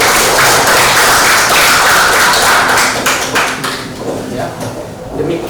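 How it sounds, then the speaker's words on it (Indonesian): Students in a classroom applauding the third presenting group, loud sustained clapping that thins out and fades toward the end, with some voices mixed in. "Tepuk tangan untuk kelompok ketiga."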